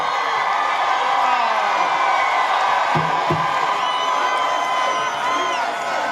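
A large crowd at a Trump political rally in Rome, Georgia cheers and whoops steadily and loudly throughout, a dense continuous roar with scattered shouts.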